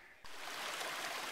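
A mountain stream rushing and gurgling close by as water bottles are refilled, the flow swelling in abruptly after a quiet instant and then running on steadily.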